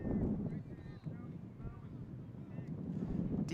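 Steady wind buffets the microphone with a low rumbling roar throughout at an outdoor lacrosse game, while distant crowd voices murmur faintly underneath.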